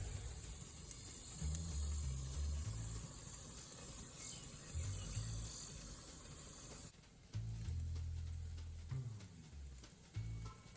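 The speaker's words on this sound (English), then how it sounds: "I flip it down and I get my first sear going on side one." Steak searing in a hot pan, a quiet continuous sizzle with occasional thuds and shifts as the meat is flipped and pressed, close and alone.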